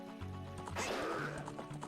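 Epona, the horse from the Zelda game Ocarina of Time, gives a short synthesized whinny with a rising and falling neigh, moderately loud over steady game background sound.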